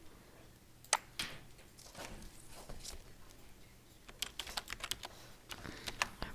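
Typing on a computer keyboard while writing Python code, with a few sharp isolated key clicks early on, then a quicker run of keystrokes near the end, close up and fairly quiet.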